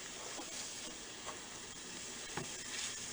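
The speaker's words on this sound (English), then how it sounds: "put it right on the grill and make it brown it up a little bit" A Monte Cristo sandwich on organic bread, topped with glazed onions, sizzles steadily on a grill as it browns, a soft continuous frying hiss with a few faint scrapes and no voices.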